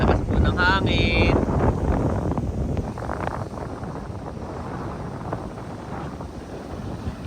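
Strong wind buffets the microphone in a steady low roar, with a voice briefly audible near the start.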